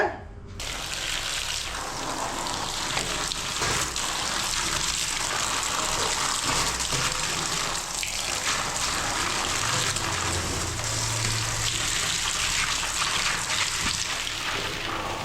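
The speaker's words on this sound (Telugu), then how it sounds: "ఇప్పుడు ఈ ఫిల్టర్ని మనం వాష్ చేసేసుకోవచ్చండి ట్యాప్ దగ్గర" Water from a tap gushes steadily for a long stretch, a loud continuous splashing rush as a dusty air conditioner filter is rinsed under the stream.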